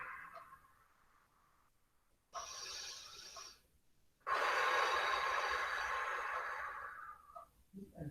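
During a qigong exercise, slow breaths alternate: a faint inhale, then a louder, longer rushing exhale, with quiet pauses between, close and alone.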